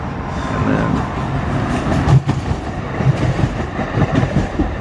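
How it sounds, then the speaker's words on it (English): A train rumbles past close by at Dealey Plaza, with heavy low clatter and rhythmic wheel thumps that swell and ebb over a few seconds. "one more train"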